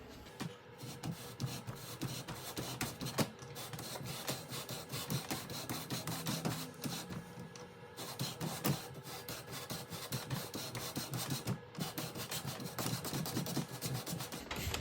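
A lapping bar is worked back and forth through scope rings, producing a steady, close grinding and rasping rub that continues unbroken at even volume with no voices.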